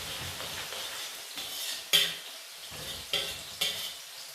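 Onions frying in a pan for chicken korma, a steady sizzle with occasional stirring scrapes and metallic clinks of a spoon against the pan, close and alone.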